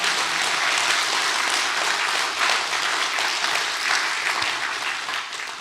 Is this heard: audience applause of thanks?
yes